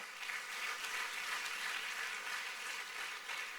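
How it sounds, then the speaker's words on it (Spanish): A church congregation claps in praise during a sermon, a faint, steady patter of many hands heard at a distance without talk. "Dale un buen aplauso al Rey de Gloria."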